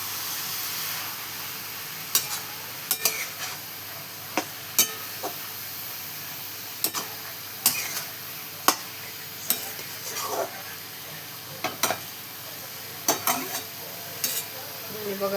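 Chopped fenugreek greens fry in a pan with a constant soft sizzle, while a spoon scrapes and stirs in sharp, irregular strokes every second or so.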